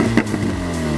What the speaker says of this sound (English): And the rumble of the car, oh my god,